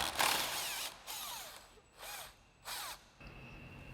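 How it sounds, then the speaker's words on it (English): Impact driver with a 10mm socket running off bolts holding the bottom half of a 2014-2018 GMC Sierra 1500 grille: three short whirring, rattling bursts separated by brief pauses, close and alone. "So again, we'll grab our 10mm socket on our impact,"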